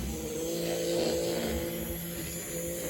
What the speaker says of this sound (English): It's still a really slow runner, but it is running pretty smooth